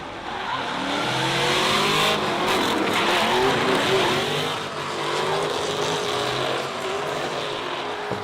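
Two drift cars battling in tandem through a course at a drifting competition, engines roaring close and loud with sustained tire squeal that swells and eases over several seconds, no voices.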